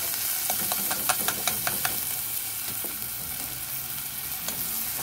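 Red lentils and softened onions frying in a pan, with a steady close sizzle and a run of sharp scraping stir strokes near the start, then continued frying with occasional scrapes.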